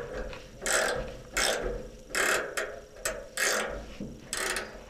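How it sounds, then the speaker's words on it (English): A ratcheting end wrench turns a turnbuckle on a tank-mounted air cannon, giving six or so distinct, close-up bursts of ratchet clicking in a steady rhythm with short pauses between strokes. "It's just got a ratcheting end wrench on it that can be switched directions,"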